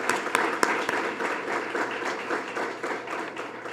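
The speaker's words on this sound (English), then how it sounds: "Let's give them one more time a big round of applause for this great" A round of applause for Tiger Legends honorees at a 2023 Martin High School recognition event, with a few sharp claps up front and then a steady, moderately loud patter from the crowd.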